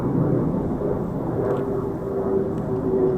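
Two F-35 fighter jets fly very high overhead on their way back to RAF Lakenheath, a distant, steady low roar with a faint whine, heard alone.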